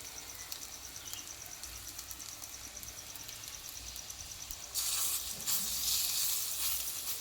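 Pumpkin fritters fry in oil with a soft, steady sizzle against a faint background of chirping insects, then the crackle swells suddenly louder and stays close for the last few seconds.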